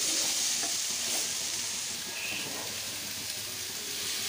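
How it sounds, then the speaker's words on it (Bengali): A spice masala with Kashmiri chilli powder is stir-fried for a giant taro dish, giving a steady close sizzle with soft scraping stirs throughout and no talking. "সমস্ত মশলাটা বেশ ভালো করে একটু কষিয়ে নিচ্ছি।"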